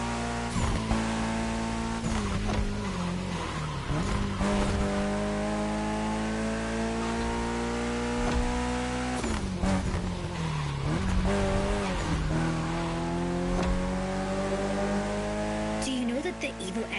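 A Mitsubishi Evo X race car in The Crew Motorfest video game revs hard through rising gear pulls with sharp shifts and tire squeal, loud and close, while a voice talks over it.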